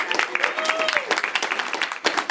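Audience applause at a live event, a dense crowd clapping steadily with a voice calling out over it, the clapping filling the short stretch from start to finish.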